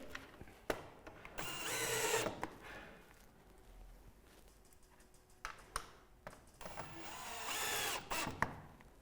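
A power drill drives screws into aluminium trim on a centre-pivot roof window, with two loud whirring bursts separated by quieter clicks and handling noise, close by and without talk.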